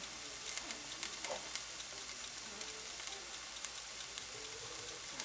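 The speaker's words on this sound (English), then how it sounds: "I'm going to saute these until they're a little bit soft." Half an onion sautéing in oil in a pan gives off a steady, faint sizzle with soft crackles and occasional light pops throughout, no voices.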